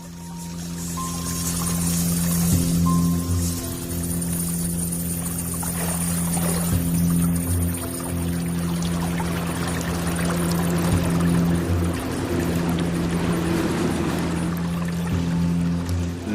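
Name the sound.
river current flowing under a bridge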